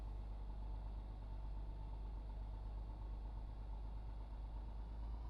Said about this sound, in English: We'll get the engine started.